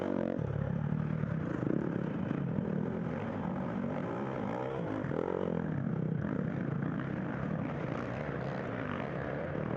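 Dirt bike engine revving hard at mid-race during Round 10 of the 2019 GNCC Black Sky off-road race, a loud, continuous droning roar with no pauses and no voices.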